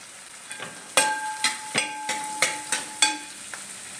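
Shallots for a fish curry sizzle in a hot pan, with a soft, steady frying hiss broken by repeated sharp clinks and scrapes of stirring at a regular pace.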